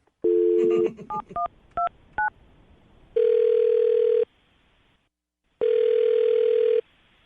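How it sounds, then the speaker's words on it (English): Touch-tone keypad dialing a telephone number: a quick run of short DTMF beeps, then two long steady tones separated by a pause, clear and close with no talking. "I'm going to dial the phone number right now"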